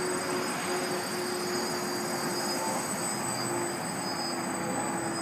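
A DJI FlameWheel 450 quadcopter hovers in altitude mode, its motors holding a steady, continuous high-pitched buzz with a constant whine that stays loud and even throughout.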